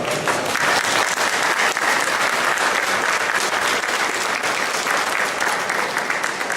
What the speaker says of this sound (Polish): Ogromne brawa dla Państwa.